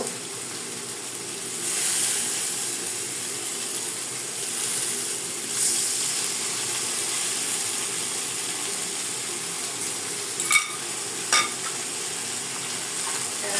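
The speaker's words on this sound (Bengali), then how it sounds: "মশলাটাকে ভালো করে কষে নিব" Spice paste (masala) frying in a pan for a fish dish, a continuous soft sizzle and hiss, with brief scraping clinks from stirring near the end.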